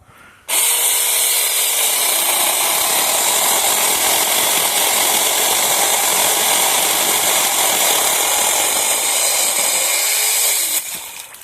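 A cordless mini chainsaw cuts through a garden tree branch during orchard pruning, a loud, steady high-pitched whine that runs unbroken for about ten seconds before cutting off.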